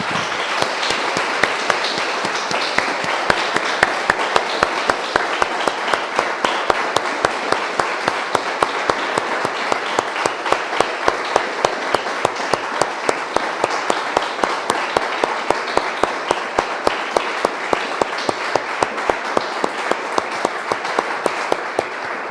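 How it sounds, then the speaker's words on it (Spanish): A church congregation applauds after a closing prayer, a steady, dense clatter of many hands that runs unbroken and fairly loud for the whole stretch with no voices over it. "Damos un aplauso, hermanos."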